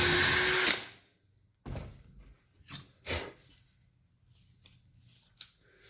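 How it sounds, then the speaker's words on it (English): A power drill bores a single hole through the center of a wooden forming block for an aircraft nose rib, a loud close burst of drilling that stops abruptly, followed by several scattered clunks and knocks of the wood and tool. "I've been just drilling one hole through the center."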